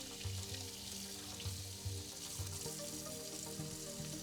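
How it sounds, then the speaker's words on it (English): Splint made of thermo-adaptive 3D-print resin rinsed under a running cold water tap, a steady close splashing hiss with a few low clunks, no talking. "I'll go ahead and run that under cold water."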